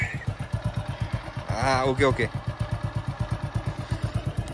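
A very old motorcycle engine runs close by with a steady rapid thumping idle, and a person briefly speaks over it partway through.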